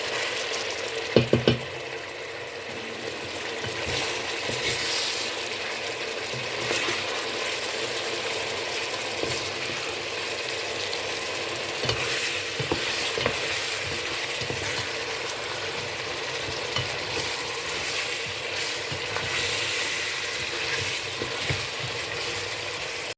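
Beef pieces for a Senegalese-Ivorian thieboudienne brown in a pot, a steady, even sizzle running throughout with a few brief clinks near the start and no speech.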